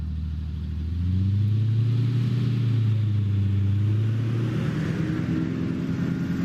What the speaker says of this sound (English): As soon as you give it any throttle, it just pretty much just sputters and wants to cut itself out.